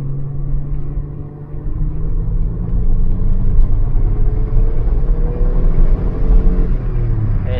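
A Citroën XM V6 engine revs up to around 5300 rpm, a steady loud mechanical drone with a rising pitch, close by and without talk.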